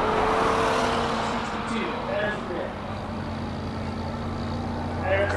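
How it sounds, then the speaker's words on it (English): A 2017 McLaren 570S climbs a hill course, its engine droning at a steady mid distance and passing through gear changes, while a commentator talks over it. "McLaren's coming up our way now. Jacques Wheeler in the 570S."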